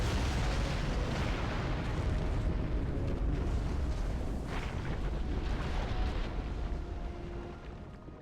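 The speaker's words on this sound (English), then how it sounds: "But this base will be eliminated with cruise missiles." Cruise missile explosions level an enemy base in the strategy game Supreme Commander, a loud continuous rumbling roar of overlapping blasts that fills the whole stretch and fades slightly at the end.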